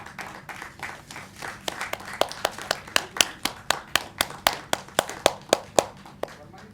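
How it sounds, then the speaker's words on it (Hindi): Applause at a book launch event, sparse and fairly close, with a handful of sharp, regular claps standing out from softer scattered clapping in a small room. "हम सब तालियों की गड़गड़ाहट के साथ इसका स्वागत करेंगे"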